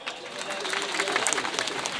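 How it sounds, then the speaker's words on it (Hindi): An audience at a community social meeting breaks into steady clapping and applause that continues through the clip, with crowd noise mixed in. "अच्छी बात है, ताली बजाओ।"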